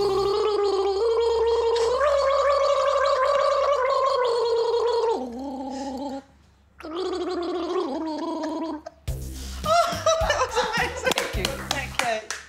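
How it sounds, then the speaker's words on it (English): A woman gargles the Star Trek theme, a loud, wavering bubbly melody held in long notes, then breaking off into laughter and clapping from a studio audience with people talking. "I can gargle the Star Trek theme."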